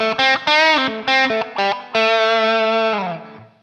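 An electric guitar on its overdriven channel plays a short riff of choppy chords, then a sustained ringing chord that fades out, loud and gritty, with no voices.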